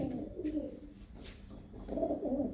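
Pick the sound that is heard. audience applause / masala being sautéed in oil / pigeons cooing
pigeons cooing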